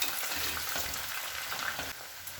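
Sliced potatoes fry in oil for a potato tortilla, a dense, steady crackling sizzle close by with faint stirring, no voices.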